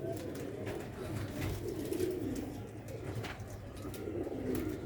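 Rare Sialkoti slate-grey pigeons coo continuously in a low, rolling murmur, several birds overlapping nearby at a steady moderate level with faint scuffs in the background.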